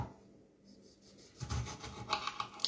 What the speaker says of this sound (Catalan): agafarem un platet i mentre es fa la ceba, ratllarem un tomàquet.